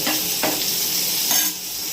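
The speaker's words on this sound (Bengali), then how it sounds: "দিয়ে নেড়ে চেড়ে লাল লাল করে ভেজে নেব" Soybean chunks dusted with turmeric and a pinch of salt sizzle loudly in a pan, with a couple of brisk scraping strokes of stirring over the continuous hiss.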